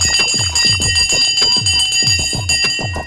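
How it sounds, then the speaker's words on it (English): A stock market opening bell rings continuously, a loud rapid electric clanging with steady repeated strikes and a sustained metallic ring, heard alone for about three seconds. "The bell has now gone"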